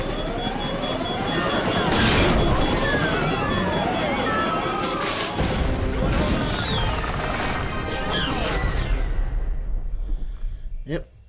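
A helicopter goes down in the Jurassic Park video game, a loud roaring crash of engine noise and impacts with shouting voices mixed in, ending in a sharp hit before silence.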